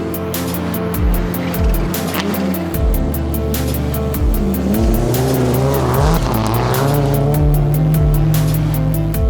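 A rally car races along a Rally of the Tall Pines stage, its loud engine rising and falling through rapid gear changes with rhythmic revving, close and continuous, without audible talk.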